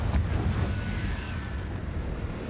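In Hogwarts Legacy, the Confringo blasting spell bursts once with a sudden, fairly quiet blast that fades into a low rumbling tail.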